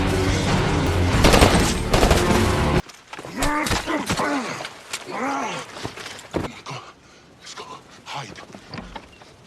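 Film gunfire, with a villain shooting at villagers, comes as a dense, loud barrage in the opening seconds before it cuts to quieter scene sounds and voices.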